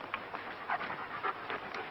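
Pacha, a dog at Marc Chagall's home in Saint-Paul-de-Vence in 1967, pants steadily and close by in a quick rhythmic huff that continues without pause. No one is speaking.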